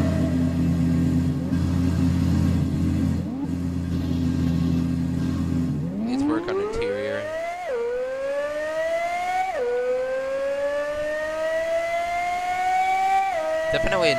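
Very loud car engine in the Roblox game Wayfort, first a steady droning idle, then revving up in rising sweeps with a couple of gear-like drops, close and dominant throughout.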